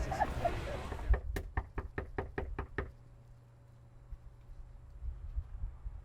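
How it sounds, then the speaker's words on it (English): Someone knocks on a door while canvassing voters before the Iowa caucus: a steady run of about ten sharp, close raps following a burst of brief muffled noise, then quiet. "Knock on some doors."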